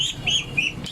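Ducklings being let loose give a couple of short, high quacking peeps, close and fairly clear over soft handling noise.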